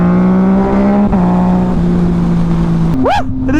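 A Yamaha motorcycle with an aftermarket exhaust holds a loud, steady engine note close by, then blips the throttle in a quick rising and falling rev at the end, with wind noise underneath.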